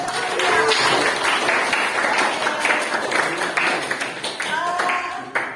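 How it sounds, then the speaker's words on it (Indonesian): Students clap in a classroom after a presentation, a dense burst of applause lasting several seconds with voices mixed in. "Tepuk tangan."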